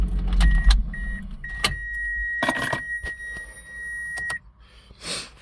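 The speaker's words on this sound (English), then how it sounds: "So let me shut off the car." A car engine is shut off, followed by jangling keys and a long steady electronic chime, with a few soft clunks inside the cabin, quiet and close.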